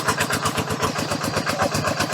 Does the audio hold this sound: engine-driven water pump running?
yes